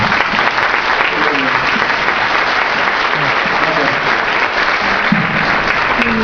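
An audience claps loudly to welcome a speaker before a talk, a dense continuous round of applause that holds steady from start to finish.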